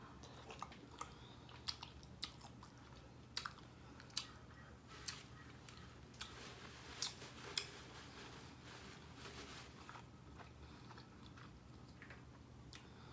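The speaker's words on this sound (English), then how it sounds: "Give y'all a good first juicy bite." Someone chews shrimp coated in sauce during a mukbang, soft wet bites and smacking that come in scattered, irregular bursts over a quiet, faintly humming background.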